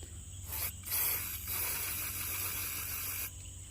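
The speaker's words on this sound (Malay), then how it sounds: "aku guna spray hitam aje lah" Black aerosol spray paint hissing from a can while coloring a forged carbon fiber mix, a close, steady broadband spray in a few bursts with a short pause early on, no talking.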